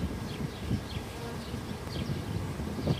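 Bees buzz steadily and closely around a beekeeper, a dense droning hum with individual insects swooping past.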